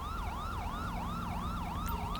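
Ambulance siren in the video game GTA, a loud continuous wail sweeping up and down in a steady repeating cycle over a low engine rumble, with no talk.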